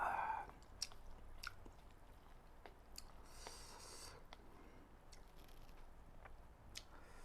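Someone eats spicy Jin Ramen instant noodles up close, with soft wet chewing and slurping squishes and a few sharp clicks, quiet and without talk.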